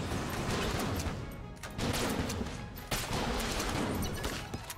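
Constant dense gunfire and explosions from the video game Enter the Gungeon, a continuous loud barrage of rapid shots and blasts with only brief dips in intensity.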